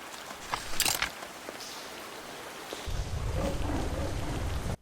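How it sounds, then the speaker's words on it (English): Constant rain falls in the Plaguemire area of the video game Mohrta, a steady hiss that grows heavier and denser partway through, with eerie ambient undertones. "The Plaguemire's constant rain and eerie environment"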